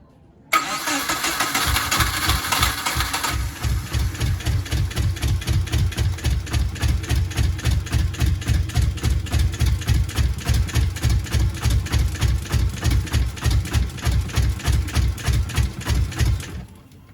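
A Subaru Impreza GC8 engine cranks briefly, catches, and settles into a steady, loud running rhythm with regular low pulses lasting over ten seconds.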